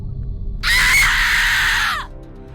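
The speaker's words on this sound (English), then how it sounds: "A scream filled the air, and everyone froze." A loud, sustained scream in an 1980s slasher audio drama rings out alone for over a second, cutting sharply across a low background rumble before trailing off.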